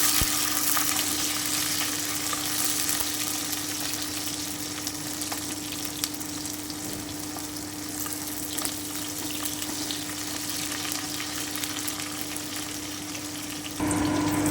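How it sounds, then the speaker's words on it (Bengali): Beans fry in a pan with a constant close sizzle and scattered sharp crackles, steady throughout with no talking. "সিমগুলো প্রায় ভাজা হয়ে এসেছে"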